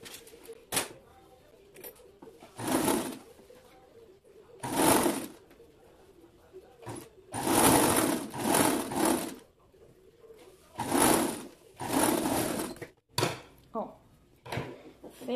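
Overlock sewing machine stitching a dress seam in short bursts of fast whirring, with pauses between runs, close by and fairly quiet.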